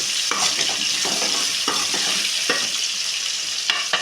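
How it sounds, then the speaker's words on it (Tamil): Small onions fry in a generous pool of oil for a South Indian fenugreek kuzhambu, giving a steady close sizzle broken by repeated scraping stirs of a spoon against the pan, with no voices. "நல்லா வெங்காயம் வணங்கி வருது பாருங்கள்."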